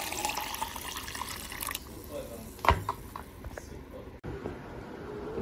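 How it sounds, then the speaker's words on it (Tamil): Water is poured into a blender jar holding lemon, mint and sugar for juice, making a quiet splashing trickle that fades into soft clinks and stillness. "இப்போ தண்ணி ஊற்றிக்கலாம்."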